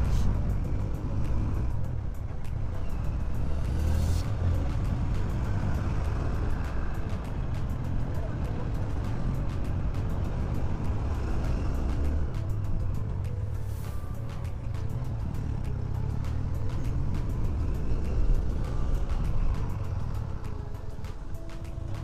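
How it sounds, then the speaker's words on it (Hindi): Jeeps drive around near hotels on a mountain road toward Hunza, picking up passengers, a steady close engine rumble with a couple of passing swells while someone talks over it. "तो ये सब वही जीप्स वाले अब घूम रहे हैं जो कि होटलों से उन पैसेंजर्स को पिक कर रहे हैं और आगे निकल रहे हैं।"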